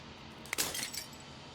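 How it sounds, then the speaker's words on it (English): A brief, bright shatter of breaking glass in the game Slay the Princess, with a quick cluster of tinkling fragments that fades into a faint background hum. "As the final fragment of glass shatters"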